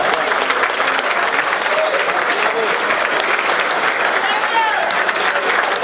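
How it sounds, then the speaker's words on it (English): Dinner audience at an appreciation dinner applauding steadily for several seconds, dense even clapping with crowd murmur and faint voices underneath, loud and close throughout. "So give yourself a round of applause"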